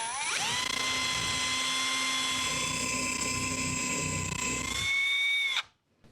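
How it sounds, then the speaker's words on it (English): A power drill bores into a plasterboard wall with a loud, steady high-pitched whine that runs for several seconds at close range, then cuts off abruptly. "Plasterboard's extremely easy to drill in, okay?"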